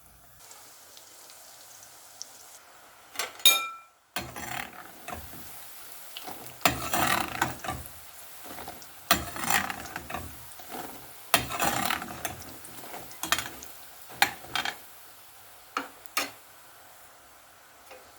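Pieces of fiyonk, a bow-shaped fried dessert, go into hot oil, giving irregular crackling and sizzling bursts with ticking pops and occasional utensil clinks, close by and uneven over a quiet background, with no talking.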